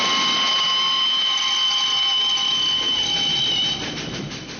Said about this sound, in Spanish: es el pitido del tren llegando en la estación.